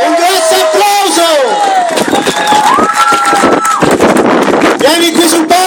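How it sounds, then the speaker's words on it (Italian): At a 2011 cosplay event in Castelverde, Italy, an audience cheers and shouts for the best male cosplay winner, a loud outdoor crowd roar with wind buffeting the microphone and voices calling over it. "Un grosso applauso!"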